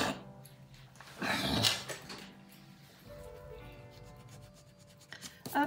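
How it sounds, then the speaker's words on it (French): An eraser rubs pencil marks off paper while a happy mail scrapbook card is being made, giving a few quick scratchy bursts of rubbing that stand out over a faint, quiet background. "Hop, je viens gommer."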